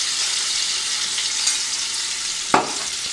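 Eggs fry in oil in a pan for Bengali egg curry (dim er dalna), giving a loud, continuous close-up sizzle, broken once by a dull clunk as they are stirred.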